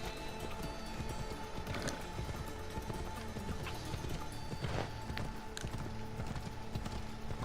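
Horse hooves clip-clop at a steady gallop in the Assassin's Creed Odyssey video game, continuous and fairly loud, with a few brief knocks and game effects mixed in.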